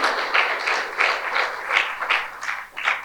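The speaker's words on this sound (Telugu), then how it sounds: "చప్పట్లు కొట్టి ఆయన నామాన్ని మహిమపరచును" Church congregation claps at a Pentecost festival service, rhythmic unison beats about three per second, close and fairly loud, with no talking.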